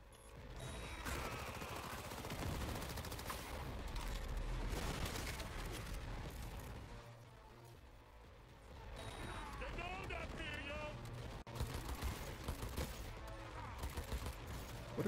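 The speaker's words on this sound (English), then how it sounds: "That's a turret." Turret gunfire in the video game Cyberpunk 2077, rapid bursts of shots and booms in clusters, with quieter gaps and a renewed burst of sharp cracks toward the end.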